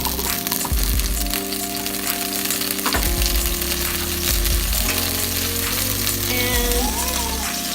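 Garlic sizzles in hot olive oil in a pan for tortellini chicken soup, a loud continuous frying hiss with occasional stirring scrapes and clinks, close and without speech.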